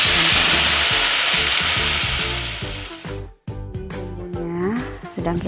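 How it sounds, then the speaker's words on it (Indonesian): Ground spice paste frying in hot oil for udang sambal tempe crackles loudly, then hisses and spatters unevenly as it is stirred, with a short sharp clatter partway through. "Selanjutnya kita panaskan minyak dan kita tumis bumbu yang sudah dihaluskan tadi."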